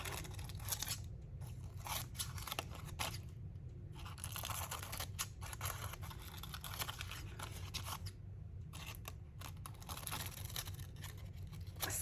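Scissors snip repeatedly along the edges of grungy painted index cards, giving a steady series of close, crisp cuts with short gaps between them.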